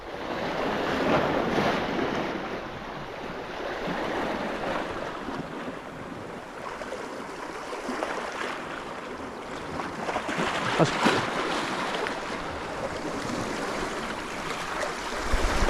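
Choppy sea water on an overcast day while bass fishing, a continuous broad wash of waves and wind buffeting the microphone, steady and fairly loud throughout.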